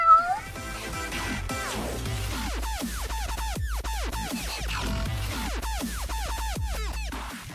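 A Minecraft cat meows in the video game, a rapid string of loud, close, repeated meows sounding steadily over a low background tone. No one talks.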